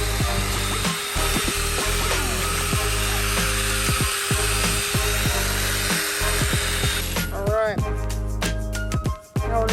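A power polisher works a small area of a boat beside a riveted screw, a loud steady whine with pitch dips as the pad presses and tilts, then stopping near the end while a voice talks.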